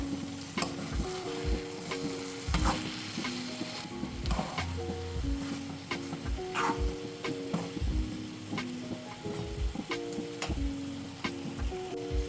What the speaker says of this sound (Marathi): एकदा भाजी चेक करून घेऊया घाटून घेऊया